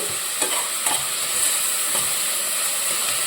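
Crushed ginger-garlic paste frying in a hot pan, a steady bright sizzle with a few soft stirring scrapes, close and continuous with no talking.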